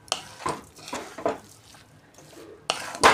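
Coconut and sugar mixture stirred in a pan for coconut sweets, with repeated scraping strokes and clinks of a metal utensil on the pan, ending in a louder scrape.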